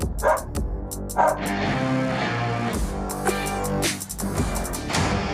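A police dog barks repeatedly in bursts, loud and close, with a dense, busy backdrop of other sound running through the whole stretch.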